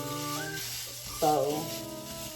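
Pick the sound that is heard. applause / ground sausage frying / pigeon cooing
ground sausage frying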